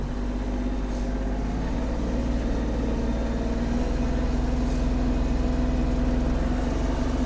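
Kubota GL-261 Japanese mini tractor with a cab idles outdoors in frosty weather, a steady low diesel hum with an even, unchanging drone throughout, close and continuous with no talking.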